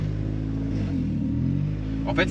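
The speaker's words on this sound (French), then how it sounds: "La voiture a un ralenti instable, écoutez." A Honda Prelude engine with an unstable idle from an air leak in its idle system rumbles low and unevenly, its steady drone wavering slightly throughout, close by with no one speaking.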